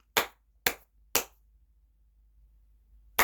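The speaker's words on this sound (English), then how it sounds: "Clicking my heels and clapping my hands." Four sharp, distinct hand claps, three in quick succession and a fourth after a pause of about two seconds, close and crisp against a quiet background.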